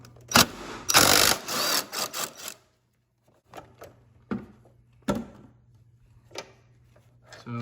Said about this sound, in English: I'd recommend using a heavier duty impact to remove them